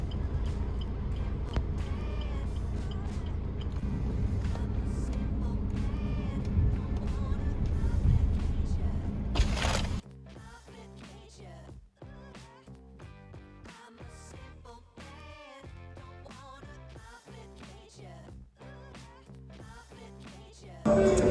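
A car driving on the way to a hotel, heard from inside as a loud, steady low rumble of road and engine noise for about ten seconds, which then gives way to other, quieter sounds.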